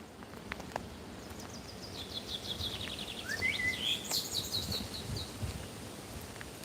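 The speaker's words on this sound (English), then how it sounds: "did you hear that bird?" A bird sings a short series of bright, rising chirps and trills in the distance over quiet forest ambience with faint rustling.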